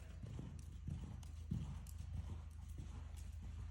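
Hooves of a horse cantering in a riding lesson, a quick repeating clip-clop rhythm heard fairly faint and distant against a low background rumble.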